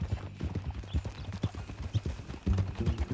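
Horse hooves clip-clopping in the game Red Dead Redemption 2, a steady rhythmic walk of close, clear hoof strikes on hard ground, continuing without talk over them.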